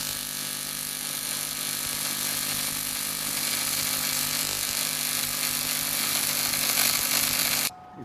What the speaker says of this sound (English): See if he can get a tack, a fusion tack.